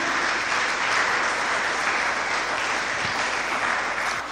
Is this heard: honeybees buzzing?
no